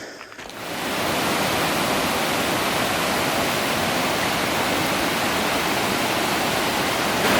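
Baxter Creek rushes past a trail crossing in the Great Smoky Mountains, a loud, steady broadband wash of flowing water that fades in at the start and then holds with no voices.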